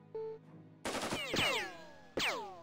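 Gunshots in Jagged Alliance 2, a few sharp, close reports separated by short gaps, each trailing off into a ringing, descending tail, with a brief quiet tone before the first shot.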